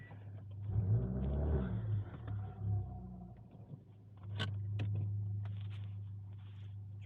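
A car, an Alfa Romeo Giulietta, rumbles close by as its engine revs and settles while pulling up and parking, with a steady low idle and a couple of sharp clicks near the end.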